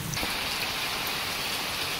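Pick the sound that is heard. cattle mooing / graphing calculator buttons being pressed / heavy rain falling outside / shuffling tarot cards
heavy rain falling outside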